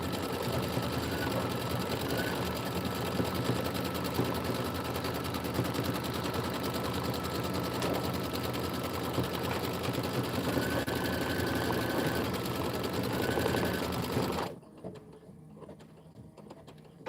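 An embroidery and sewing machine stitches out a Kimberbell County Blooms pillow design, its steady, loud mechanical whirring and rapid needle chatter running continuously before stopping abruptly near the end.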